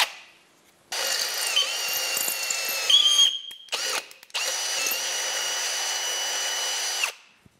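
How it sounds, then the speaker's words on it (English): A 10 by 1.25 tap cuts a thread, driven by a power tool in two sustained bursts of high whirring with a short pause and small clicks between, close and fairly quiet. "So you can just tap it straight through."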